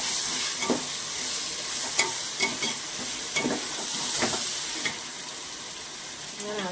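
Ginger garlic paste frying with cinnamon, cloves and spices in a pan, a steady sizzle with repeated scraping stirring strokes, close and continuous, no talk.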